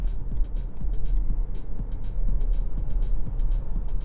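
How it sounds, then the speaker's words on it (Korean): A Renault Samsung XM3 coupe-style SUV accelerates on an open road, heard from inside the cabin as a steady low engine and road drone with a rising hum, overlaid by repeated faint high chirps, and no talking. "한번 가속 성능을 한번 가볼게요"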